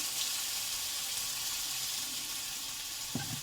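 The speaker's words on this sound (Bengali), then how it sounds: "এবার কাঁচা লঙ্কা আদা তেলে দেবো" Green chilli and ginger hit hot oil in a pan with a steady, soft sizzle and crackle, close by, ending in a brief louder spit of frying.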